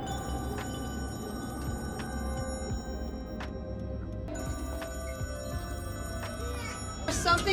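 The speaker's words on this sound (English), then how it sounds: "here when Kenny hears the phone ringing" A telephone rings in a tense TV drama scene, a thin repeating electronic tone pulsing at regular intervals over a steady low ambient rumble, with a louder burst near the end.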